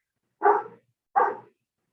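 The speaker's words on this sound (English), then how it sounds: "this dog is gonna be barking until this person with some ice cream thing outside" A dog barks twice at a passing ice cream vendor outside, two distinct, fairly loud woofs about three-quarters of a second apart, with no voices or other sounds around them.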